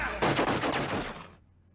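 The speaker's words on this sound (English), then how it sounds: "Was that Laurie shooting?" Gunfire from the 1990 film Total Recall, a dense burst of several shots lasting about a second, then a quick fade into silence.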